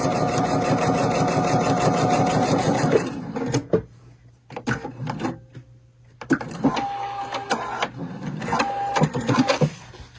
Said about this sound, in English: sewing on camera, sometimes I go a little crookedy